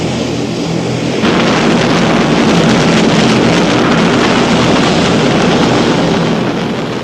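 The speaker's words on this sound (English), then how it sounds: "with the takeoff rockets going full blast" Massive Messerschmitt Me 321 Gigant glider takes off under full-blast rockets while towed by a four-engine Junkers 90, a loud, continuous roaring rush that swells after the first second and holds steady throughout.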